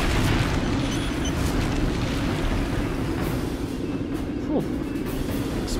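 Rumbling space-battle explosions from the Star Trek Legacy video game, a dense, continuous low roar with booming undertones that holds steady and loud throughout.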